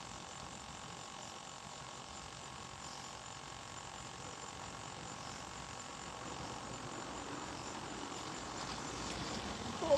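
Crickets chirp steadily inside a bucket, a dense, faint, continuous buzz with a low rumble underneath that swells slightly toward the end.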